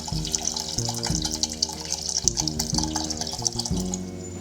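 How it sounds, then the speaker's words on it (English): Water poured into a small pressure cooker over washed dal, a steady splashing, gurgling stream from start to finish with no voices. "Put it in a small pressure cooker and add in the water."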